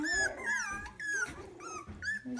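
A young puppy growls and whines in short, rising yelps and rumbling grumbles, several bursts with brief pauses, close and fairly loud with no talking over it.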